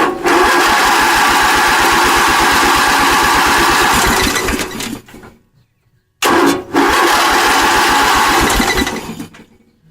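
A car engine cranks and catches, then runs with a loud, rapid pulsing rattle for about five seconds before cutting out; after a brief silence it starts again and runs several seconds before dying, without talk.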